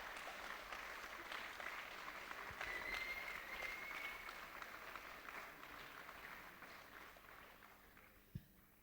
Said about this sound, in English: So applause for yourself as well.